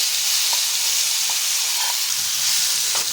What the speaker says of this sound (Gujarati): તો હિંગને આપણે અહીંયા સરસ સાતળી લઈશું